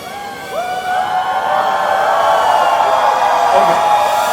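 Fans at a Citadel: Honey Bunny promotional event cheer, whoop and shriek together, swelling after a brief start into a loud, sustained crowd roar.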